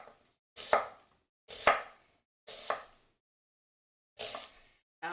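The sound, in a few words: knife slicing food quickly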